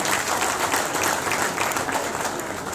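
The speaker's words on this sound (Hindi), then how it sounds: "अपने सम्मान में और हमारे जो स्वाभिमान के सूर्य महाराणा प्रताप जी के सम्मान में जोरदार तालियां मिला जाए" A hall audience at a Maharana Pratap Jayanti gathering in Greater Noida gives a loud, sustained round of applause that fills the room evenly throughout.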